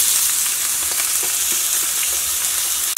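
Onion, ginger and garlic frying in oil with cumin, a loud close steady sizzle and crackle with faint stirring taps, and no voices.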